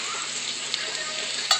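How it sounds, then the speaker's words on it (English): Chicken frying in a pan at home, a steady close hiss of sizzling oil with a couple of brief sharp pops, no talk. "Oh, I'm frying them right now."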